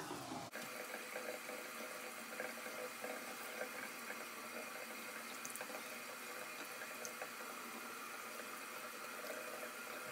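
A water flosser flushes between teeth fitted with braces: after a brief click, a continuous quiet buzzing hiss runs steadily for about ten seconds with no talking.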